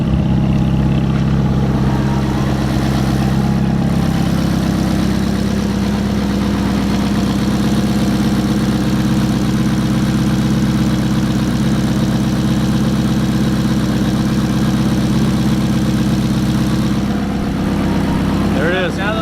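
A Ferrari F430 engine idles steadily and loudly close by, a continuous low rumble lasting the whole stretch with a slight change near the end, while a person talks over it.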